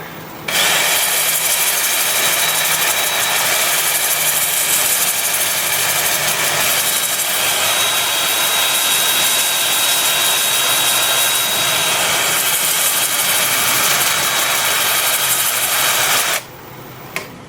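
A 2-inch sanding disc on a power drill works the surface of a Gravenstein apple wood bowl on a lathe, a steady loud whirring grind running almost continuously, then stopping abruptly near the end.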